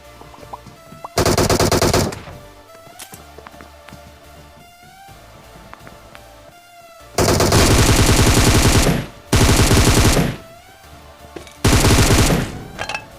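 Gunfire from a battle royale video game: loud bursts of rapid automatic fire in several long stretches, separated by quieter game ambience with scattered single shots and clicks.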